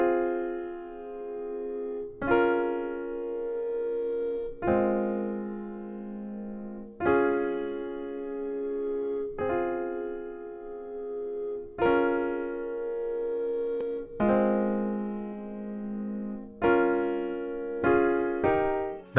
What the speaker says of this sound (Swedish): Vi hittade ett pianoljud och satte ackorden egentligen bara.